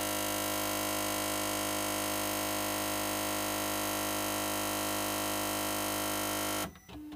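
A faulty DaVinci Mini 3D printer's harsh, constant mechanical buzzing grind drones loudly for several seconds, then abruptly stops, leaving quieter clicks and a brief tone.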